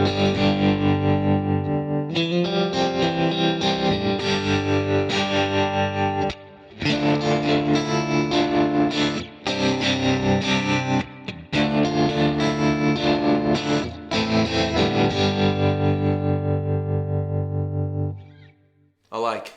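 A guitar played through a Kemper profiler with tremolo and phaser effects: loud, distorted sustained chords that pulse and swirl in a steady rhythmic chop, with brief gaps, before fading out near the end.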